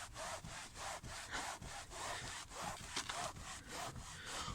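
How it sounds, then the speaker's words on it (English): A microfiber towel rubs all-purpose cleaner into a cloth car seat, making close, steady back-and-forth scrubbing strokes in a quick, even rhythm. "we're just going to simply rub in the cleaner into our seats"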